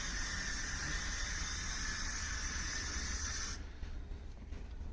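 Spray putty hissing from a can onto a BB-8 droid body, a steady close airy spray that cuts off near the end, leaving a faint background hiss.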